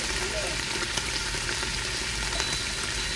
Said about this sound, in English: So we are almost done browning.